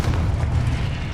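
A Confringo curse exploding in Hogwarts Legacy, one sustained deep booming blast that stays loud and full for just over a second with no pause.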